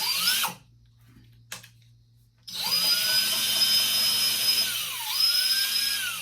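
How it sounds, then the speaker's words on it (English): A power drill bores a hole into the feet of a bird sculpture, a short burst then a pause before a long steady whine that dips briefly as the bit slows and picks up again, close and loud. "First, I'm going to drill my hole in my feet."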